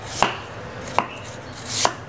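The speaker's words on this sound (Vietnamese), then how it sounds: "Mình sẽ xắt miếng mỏng ra rồi mình sẽ đặt nhuyễn nha." A knife slices a sweet potato thinly on a cutting board, giving three sharp, distinct chops spaced roughly evenly apart, close and clear with no talking.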